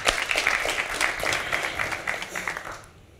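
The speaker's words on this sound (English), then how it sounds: "I give a round of applause to her" A live audience at a Brown University talk breaks into a dense round of applause, steady and fairly loud for about three seconds, then tapering off near the end. No one speaks over it.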